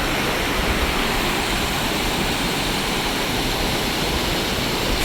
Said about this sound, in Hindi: ये देखिए सामने ये भालूगाड़ा वाटरफॉल नज़र आ रहा है आपको